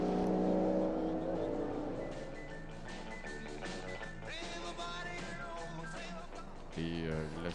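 Ferrari 250 GT Berlinetta race cars run wheel to wheel at Le Mans Classic, their engines surging and sweeping up and down in pitch as they pass, loud and continuous under a commentator's voice.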